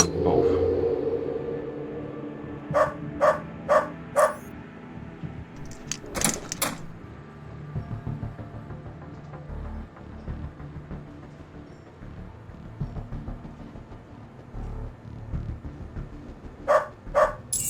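Dogs bark in a post-apocalyptic shooter video game's underground depot level, sharp barks in a quick burst of four, then two more near the end, over a low steady game rumble.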